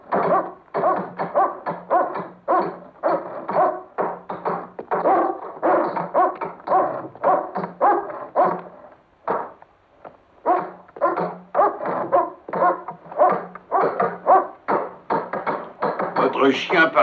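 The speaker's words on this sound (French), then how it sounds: "Votre chien paraît de plus en plus affamé, Major Rogers." A hungry dog barks repeatedly in quick, rhythmic bursts and whimpers in between, close and loud, pausing briefly midway before the barking resumes.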